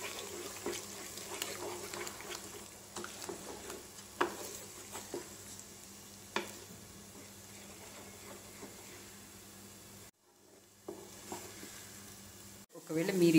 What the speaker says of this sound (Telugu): ఇప్పుడు దీన్ని స్క్రాంబుల్డ్ ఎగ్ లాగా కలిపేయాలి